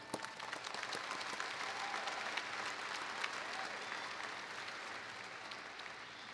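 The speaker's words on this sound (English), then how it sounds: "I'd like to recognize them by giving them applause for that" A commencement crowd at an engineering and computer science college ceremony applauds the graduates' parents, steady many-handed clapping heard from a distance at moderate loudness, slowly thinning toward the end.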